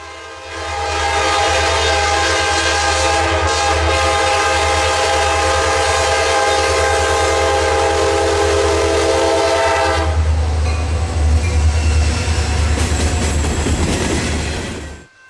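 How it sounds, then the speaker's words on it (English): A Kansas City Southern freight train led by an SD70ACE locomotive in gray paint speeds past at close range, a loud continuous roar with droning horn tones that changes to rumbling, clattering wagons as the cars go by. "Here we see KCS M-SHNS speeding through with KCS 4029 on point, another SD70 ACE that still sports the Gray Ghost."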